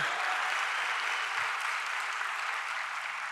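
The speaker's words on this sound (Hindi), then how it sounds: "एक बार जोरदार तालियां हमारे मुख्यमंत्री, पूर्व मुख्यमंत्री महाराष्ट्र के पृथ्वीराज चव्हाण जी के लिए जोरदार तालियां बजाइए।" Dense, steady applause from a large audience at a student parliament event greeting former Maharashtra Chief Minister Prithviraj Chavan, an even roar of clapping throughout with no talk.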